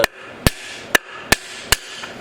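Hammer blows drive a bushing out of an NP271D transfer case on a 2007 Dodge Ram 2500 4x4, five sharp metallic strikes spaced about half a second apart, close and loud with no talking.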